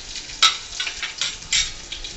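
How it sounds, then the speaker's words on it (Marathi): Mustard seeds crackling in hot oil for a tomato curry, a short burst of sharp, scattered pops and spits, close and alone. "राईचा तडतड आवाज झाला की त्यामध्ये घालूयात जिरे।"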